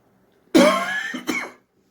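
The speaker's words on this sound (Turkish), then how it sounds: "makinalı tüfek gibi öksürük üst üste" A person sick with Covid coughs in one harsh, raspy burst and then a second shorter one, close to the mic, with silence before and after.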